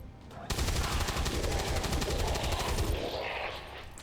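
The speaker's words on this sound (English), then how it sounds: "I love firing these weapons" Sustained automatic weapon fire from XCOM 2, a dense rapid burst lasting a few seconds, loud and close, then cutting off with a softer trailing sound.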